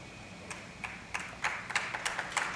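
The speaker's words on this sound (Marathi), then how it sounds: "बेअक्कलीपणाला कसली टाळी वाजवता?" A small audience at a tribal Dhangar literary gathering in Solapur claps sparsely during a speech: a few scattered claps first, then a short burst of uneven clapping, quiet and somewhat distant.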